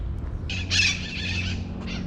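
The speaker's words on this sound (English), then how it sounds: "We have parrots up there, flying there." Harsh parrot squawks sound in short bursts over low background rumble, with one louder, shriller call in the middle from parrots flying overhead.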